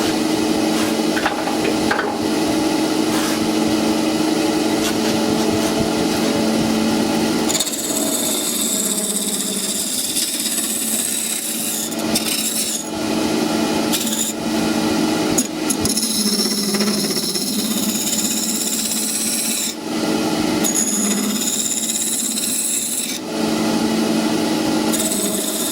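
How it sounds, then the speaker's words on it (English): Bodger's gouge scraping and rasping against spinning wood while carving spirals on a lathe, a loud, continuous gritty cutting sound with brief pauses and shifts in tone. "This tool I'm using is called a bodger's gouge."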